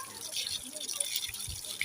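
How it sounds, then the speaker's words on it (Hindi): A small electric motor pump spraying water fast, meant for bathing a rabbit or washing a bike: a hissing, splashing spray with droplet patter, close by, with someone talking over it. "ये पानी दे रहा है ये मोटर। और बहुत तेज़ी में दे रहा है।"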